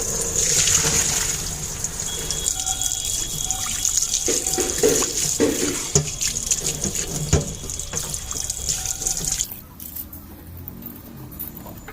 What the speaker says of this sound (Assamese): বইল কৰি কিনে এতিয়া পানীটো পেলাই দিম